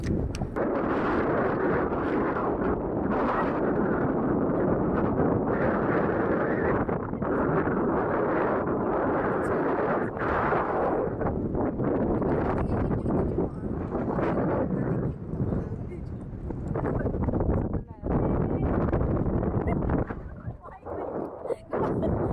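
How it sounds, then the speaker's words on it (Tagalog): Strong wind buffets the microphone in loud, continuous roaring gusts during a camel ride, easing briefly near the end, with occasional voices underneath. "Wow, mahangin."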